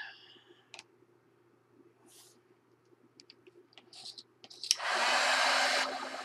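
Heat gun drying a paper craft project, a few scattered clicks and handling noises, then the gun switches on with a steady loud blowing whoosh that runs to the end.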